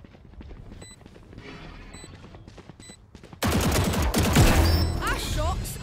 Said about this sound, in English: Ah, shots.